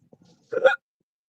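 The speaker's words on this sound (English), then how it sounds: "Ooh, a little hiccup there." A single short hiccup pops out loud and close during a relaxed stream, after a few faint soft sounds and before silence.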